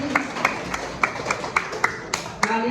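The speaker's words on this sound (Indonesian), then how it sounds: "Tepuk tangan untuk kita semua nak" A small group claps in a classroom, giving sparse, spaced single claps rather than full applause, moderately close, with a low murmur beneath.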